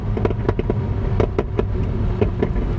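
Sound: McLaren 750S Spider exhaust pops and crackles

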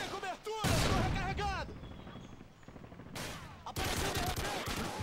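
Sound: gunfire in a video game team deathmatch

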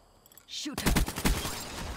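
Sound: gunfire in a video game

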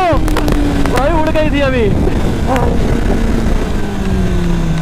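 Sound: Kawasaki ZX-10R motorcycle with aero exhaust racing

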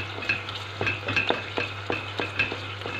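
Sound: tomato paste frying and stirred in a pan

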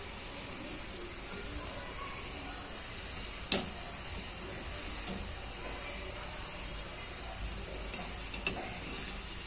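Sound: medu vada (urad dal fritters) frying in oil

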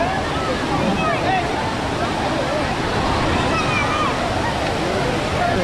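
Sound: waterfall in flood with foaming water during rain

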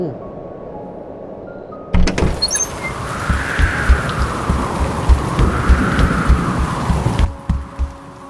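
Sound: rain and storm sound effect

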